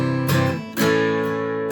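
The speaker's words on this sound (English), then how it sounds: "play the strings open on the upstroke as you're moving back." An acoustic guitar strums the chords of a song slowly, letting open strings ring on the upstroke; two loud, close strums with sustained ringing between and after, no talk.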